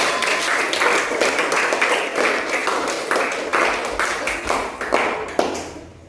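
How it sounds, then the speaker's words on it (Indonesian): A classroom of students applauds a presenting group, a loud sustained wash of many hands clapping in uneven waves before fading slightly at the close. "Beri tepuk tangan dulu untuk kelompok 1."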